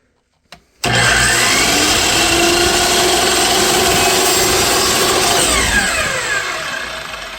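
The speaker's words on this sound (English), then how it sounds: "And then we're going to set our table saw to do the front." A table saw starts with a click and spins up into a loud, steady whine while cutting window trim, the tone holding for several seconds before easing off slightly toward the end, close and unbroken by speech.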